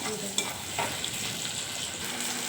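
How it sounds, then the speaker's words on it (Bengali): Tomato and onion fry in oil in a pan for a spicy Bombay duck curry. A soft, steady sizzle runs throughout, broken by a few light clicks of stirring. "এবার দিয়ে দেবো টমেটোটা একটু ভাজা ভাজা হয়ে যাক"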